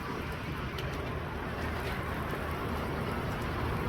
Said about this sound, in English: I hope this rain doesn't mess it up.